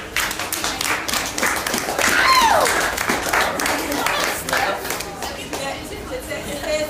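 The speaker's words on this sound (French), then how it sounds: "Bonne main d'applaudissements" Studio audience applause at a cooking competition, a steady wash of clapping that holds for several seconds, with voices and a brief whoop or call rising through the middle.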